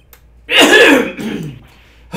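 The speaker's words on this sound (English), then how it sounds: "Maybe I should clear my throat?" A single short throat clearing, close and fairly loud, a rough rasping burst that trails off, with quiet before and after.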